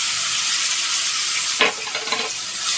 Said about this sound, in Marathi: मसाला कच्चा असल्यावर तुम्हाला माहिती आपल्याला फ्राय करायचे असते जास्त